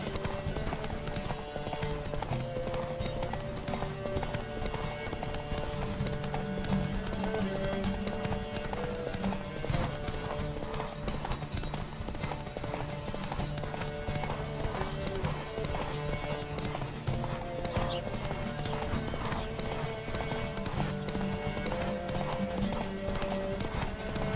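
Horse hooves clip-clop in a fast, continuous gallop during a horse race in The Witcher 3: Wild Hunt, with occasional whinnies over the steady rhythmic pounding.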